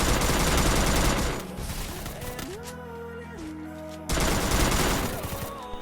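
Rapid bursts of automatic gunfire in a shooter video game, loud sustained volleys at the start and end with a quieter stretch of game sounds and tonal effects between them.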